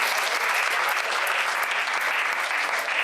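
A comedy-show audience applauds the staff, steady dense clapping filling the room at full strength throughout, with no voices over it.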